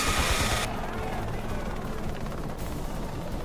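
A helicopter in a retro video game gives a steady, loud, noisy rotor drone that shifts in tone partway through and then shifts back, with no clear talk over it.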